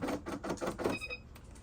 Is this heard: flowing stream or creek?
no